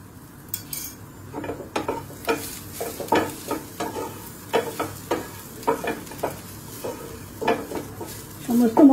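Cumin powder and red chilli powder are stirred into the frying pan for a chicken singara filling, a steady run of close scraping strokes over a light sizzle, with no talking.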